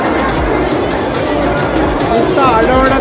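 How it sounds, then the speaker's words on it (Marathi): Dense crowd noise at a busy festival fair ride in Dombivli, a continuous loud babble of many voices with shouts and screams mixed in, steady throughout and rising slightly near the end. "नुसता आरडाओरडा चालू आहे"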